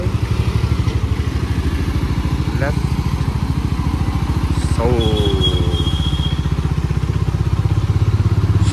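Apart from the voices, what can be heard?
motorcycle riding on a road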